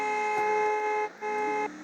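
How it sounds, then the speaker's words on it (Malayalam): A car horn honks inside the Free Fire battle royale game, sounding as two sustained electronic-sounding blasts with a short gap between them, moderately loud and with no talking over them. "ഞാൻ ഒരു ഹോണിൻ്റെ ശബ്ദം കേൾക്കുന്നുണ്ട്."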